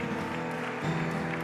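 Applause from a church congregation, a brief, steady burst of clapping that runs through the whole short moment at moderate loudness.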